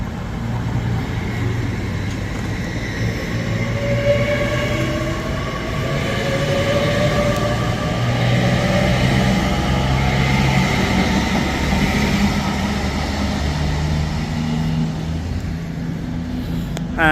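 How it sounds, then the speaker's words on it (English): A Class 220 Voyager diesel train, the Manchester to Bournemouth service, departs Birmingham New Street station with a loud, steady engine drone and rising whine that holds throughout, with no voices. "as the Manchester to Bournemouth Voyager departs"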